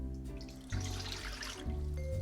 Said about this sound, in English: So I'm going to put some water in here.